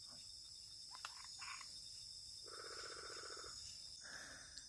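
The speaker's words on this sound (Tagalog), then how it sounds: "naririnig nyo ba yung huni ng palaka?" Nighttime chorus of frogs in a jungle: bursts of rapid, pulsing trills at a steady drone, fairly distant, with no talking.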